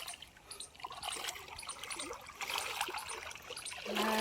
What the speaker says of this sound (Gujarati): અમારી વાડી પાસે નેર હાલી જાય છે તો પાણી જો હાલ્યું જાય છે.